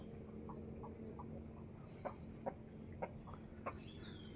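Chickens on a small farm cluck faintly in a few short, spaced calls over a steady background hum, with no talk.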